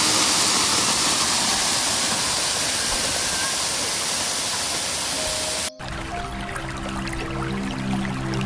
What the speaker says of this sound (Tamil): பின்னாடி அருவி பார்த்தியா, சூப்பராக இருக்குல்ல